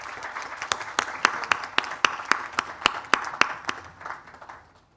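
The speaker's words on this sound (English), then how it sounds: "May we please give her a round of applause as she leaves." Applause at a women's health and gender equality forum as a speaker departs: a small audience clapping in a steady run of sharp claps, fairly close, that thins and fades out over the last second.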